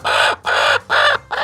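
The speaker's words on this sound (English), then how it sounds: "I bet the chickens in New Zealand don't talk to me like this." Farm chickens give a run of four loud, close clucking calls in quick succession, each lasting a fraction of a second with brief pauses between.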